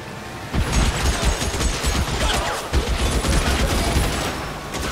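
A shootout in the video game LA Noire, set in a tunnel, brings dense, loud gunfire: rapid overlapping shots and bursts rattle almost continuously after a short quiet start, with no talking.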